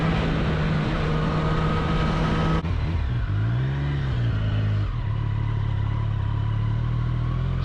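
A 2023 Triumph Street Triple 765 RS motorcycle engine revving on a winding country road, a loud close engine note that holds steady, dips and then climbs again with wind rush around it.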